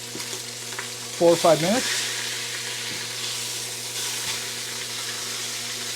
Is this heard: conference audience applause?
no